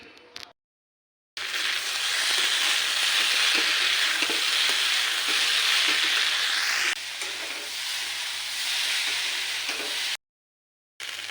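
Potato and kakrol fry with onion in a pan, a loud continuous hissing sizzle holding steady for several seconds with faint stirring scrapes underneath, cut off abruptly at both ends, no voices.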